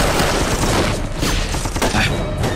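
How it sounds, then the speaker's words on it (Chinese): A dense volley of rifle gunfire from massed soldiers in a wartime battle, continuous and loud for a few seconds with overlapping bangs and no clear gaps. "三个队形，准备射击！"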